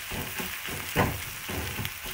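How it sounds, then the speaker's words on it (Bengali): Chopped onion dropped into hot oil in a home kitchen, frying with a soft, steady sizzle and a brief louder burst partway through. Close and fairly quiet, with no talking. "গরম তেলটার মধ্যে সমস্ত পেঁয়াজ কুচিটা একেবারেই দিয়ে দেবো।"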